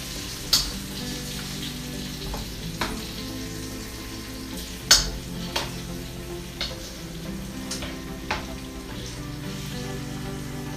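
Chicken frying in a pan and being flipped, a soft steady sizzle with a few sharp clinks and scrapes of turning the pieces, no talking.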